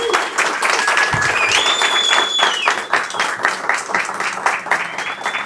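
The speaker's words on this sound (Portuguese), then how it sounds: "pedir uma grande salva de palmas para a nossa mentora de Marketing Brand, Mayara Costa." Audience applause for a marketing brand mentor at a live talk event, a dense, sustained clapping crowd that stays loud throughout, with faint whistles and cheers rising above it.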